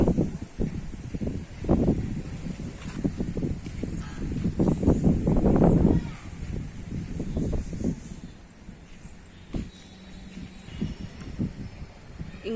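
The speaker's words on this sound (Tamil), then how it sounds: "காற்று எப்படி அடிக்குது பாருங்கள்" Strong wind after Cyclone Nivar gusting through garden trees and plants, a broad rushing roar that swells for several seconds, then eases into softer rustling, close and loud with no talking.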